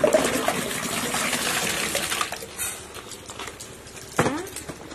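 Freshly boiled water pours from a kettle or pot over bayberries in a home kitchen to sterilize them, a steady close rushing splash that thins out partway through and ends with a short burst of sloshing.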